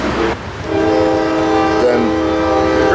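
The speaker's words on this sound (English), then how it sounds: "Then the grain train's coming." A grain train passes close by with its horn blaring in a loud, steady, sustained chord over the low rumble and rattle of the rail cars.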